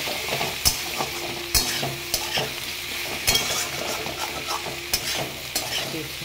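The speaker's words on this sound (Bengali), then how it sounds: "এবারে আমার ভেন্ডিটা মোটামুটি ভাজা হয়ে এসছে" Okra frying in a pan hisses with a steady close sizzle, broken by regular scraping spatula strokes as it is stirred.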